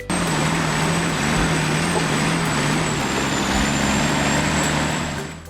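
A large timber logging truck on a forest road makes a turn, its heavy engine droning loud and steady close by, with a high whine held throughout.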